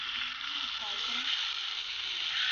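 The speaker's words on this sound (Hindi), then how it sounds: "अनियन को थोड़ा सा हम फ्राई कर लेंगे।" Onion frying in a pan for homemade kabab masala gives a steady, close, bright sizzle throughout, with faint voice-like tones murmuring underneath.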